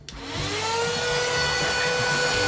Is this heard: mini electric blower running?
yes